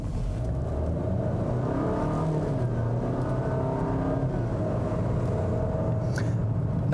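A 2019 Volvo XC40 T5 with an 8-speed automatic drives along, its steady engine hum blending with continuous road and tyre noise from inside the cabin, smooth and even throughout with no talking.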